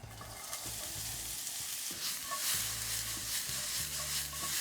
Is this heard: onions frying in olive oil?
yes